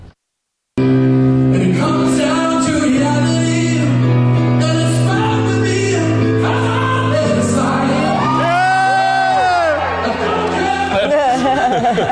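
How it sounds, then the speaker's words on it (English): At a singing performance, an audience shouts and whoops loudly over the music, with cheering and screams building up in a lively, crowded room. "You can hear Ryan a little screaming in the background."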